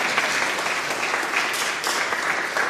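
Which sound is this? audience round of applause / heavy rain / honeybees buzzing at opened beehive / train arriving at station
audience round of applause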